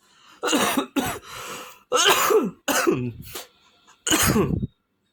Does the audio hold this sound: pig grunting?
no